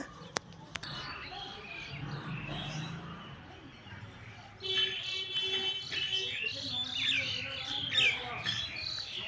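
Small birds chirp and tweet in quick bursts, growing busier after a quieter opening with faint background rumble and a couple of sharp clicks.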